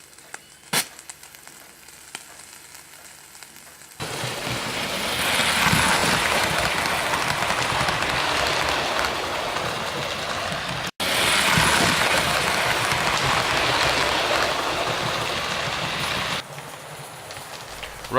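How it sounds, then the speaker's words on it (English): A 00 gauge live steam Lord Nelson class model locomotive runs under full boiler pressure pulling carriages, giving a loud steady hissing rush that drops out briefly, resumes, then fades to a quieter hiss near the end. "Running the engine at different speeds, it's quite a nice little thing to drive."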